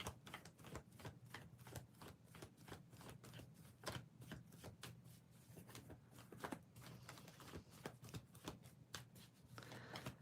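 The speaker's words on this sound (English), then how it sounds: "Let me just shuffle a little bit more." Tarot cards are shuffled by hand in a steady series of crisp riffling snaps and soft taps, faint and close, continuing for about ten seconds without talk.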